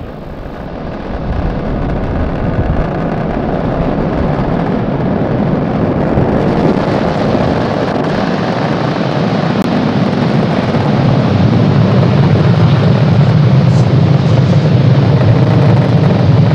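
A Falcon rocket carrying a GPS III satellite roars through its launch ascent, giving a loud, unbroken, rumbling thunder that swells slightly over its full length with a broad crackling edge and no voices.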